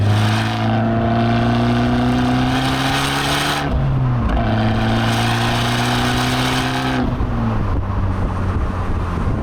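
An Abarth 595 Competizione with a 230 bhp engine revs up through the gears, its rising engine note dropping at each shift, loud and close from inside the car with no talk.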